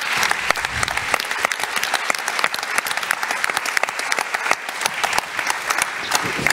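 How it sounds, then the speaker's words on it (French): Audience applause at the Fepem 2022 congress on home employment, a steady dense patter of many hands clapping for several seconds, loud and close with no talk over it. "Vous pouvez applaudir"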